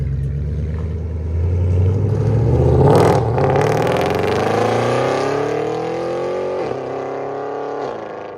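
A 2012 Mercedes C63 AMG with a 6.3-litre V8, headers and an aftermarket cat-back exhaust revs up hard from a deep idle rumble, then holds a loud rasping drone that slowly fades as it pulls away.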